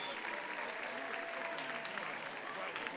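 Dense, steady applause from a crowd at a Festa Major de Santa Eulàlia colour-themed dinner, a loud, even wash of many hands clapping with no pauses.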